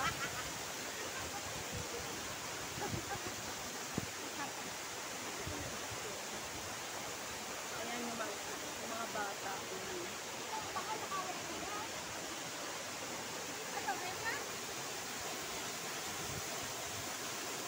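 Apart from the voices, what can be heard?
Balagbag Falls waterfall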